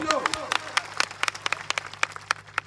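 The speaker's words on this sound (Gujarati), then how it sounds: "એમના માટે જોરદાર તાળીઓ પાડી લો" At an outdoor political rally in Savli village, a few people clap in a sparse, uneven patter of sharp individual claps, separate and distinct rather than a full ovation.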